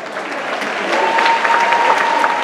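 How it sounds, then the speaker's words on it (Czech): Applause from a crowd fills a large ballroom at a school graduation ball, dense and steady clapping that swells slightly midway, with no speech. "Potlesk."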